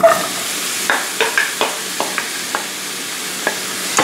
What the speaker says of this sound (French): Le sucre est prêt, donc je vais verser mes pommes pour les faire caraméliser